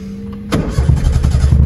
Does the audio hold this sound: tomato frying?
no